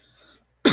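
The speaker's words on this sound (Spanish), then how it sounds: "Perdón, tengo mucha tos." A single sharp cough, loud and close, bursts out at the end of a short quiet stretch with no speech.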